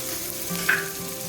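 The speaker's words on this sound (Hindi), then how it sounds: "अब हल्की आंच पे इसे फ्राई कर लें।" Onions fry in a small amount of oil in a pan over low heat, giving a steady, soft sizzle with a slightly brighter crackle midway.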